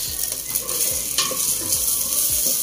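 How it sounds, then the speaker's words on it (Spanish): Bacon fries in a pan with a constant crackling sizzle, punctuated by the dull thumps of stirring against the pan. There is no voice. "Vamos a sofreír tantito tocino."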